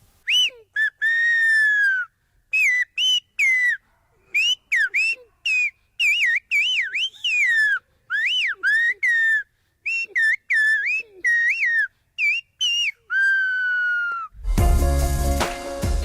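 Silbo Gomero, the whistled language of the Canary Islands, is heard as sharp, loud rising and falling whistled phrases in quick bursts separated by short pauses. A brief burst of broadband noise comes at the end.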